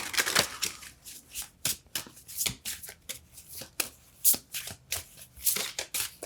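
Deck of yoga cards being shuffled by hand in a series of quick, crisp riffling bursts, close and fairly loud, with short pauses between shuffles and no talking.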